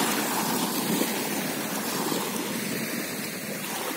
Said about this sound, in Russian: Шум моря, шум прибоя.